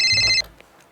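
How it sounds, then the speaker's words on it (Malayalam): A mobile phone rings loudly with a bright electronic tone for under half a second, then cuts off abruptly into quiet room noise. "ഫോൺ വന്നു. ഒരു മിനിറ്റ്."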